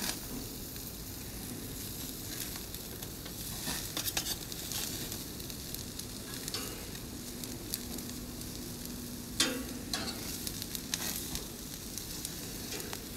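Broccoli chars on the hottest part of a grill, a faint, steady sizzle and crackle with occasional small pops, heard alone without talk.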